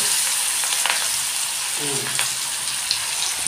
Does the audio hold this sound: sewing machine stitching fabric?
no